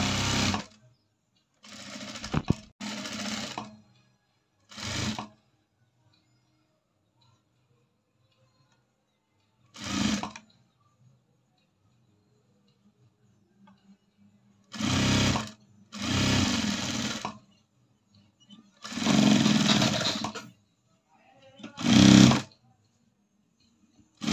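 A sewing machine topstitching the neckline of a churidar top runs in repeated short bursts of rapid stitching, each lasting a second or two, separated by pauses of silence, loud and close.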